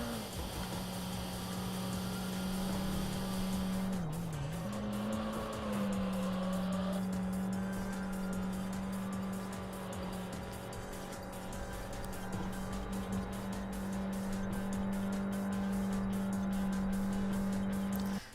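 Race car engine in the Import Tuner Challenge video game, held at a loud steady drone with a nitrous boost, one brief pitch dip early, then a sustained high whine continuing to the end with no talk.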